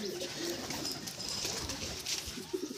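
Madrasi pigeons coo softly in a loft, low murmuring calls repeating steadily at moderate distance, with faint higher chirps and rustling now and then.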